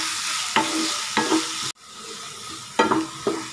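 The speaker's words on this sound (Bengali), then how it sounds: "এবার আমি এর মধ্যে দিয়ে দিচ্ছি পেঁয়াজ কুচিগুলো। পেঁয়াজ কুচিগুলো দিয়ে আবার একটু এগুলোকে ভাজবো ভালো করে।" Chopped onions go into hot spiced oil and fry with a loud, close sizzle, while a spatula scrapes and stirs the pan in four distinct bursts, with a brief cut partway through and no voices.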